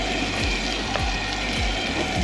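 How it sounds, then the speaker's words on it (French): Onions fry with mixed spices in a Moroccan tajine, a steady close sizzle and hiss with faint bubbling, running evenly throughout with no voices. "cuire des oignons comme ça avec ces épices mélangées"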